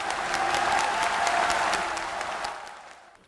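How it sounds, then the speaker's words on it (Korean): Warm, dense applause from a large crowd at a Korean political rally for Roh Moo-hyun, sustained and loud before tapering off toward the end. "뜨거운 박수로 맞아주시기 바라겠습니다"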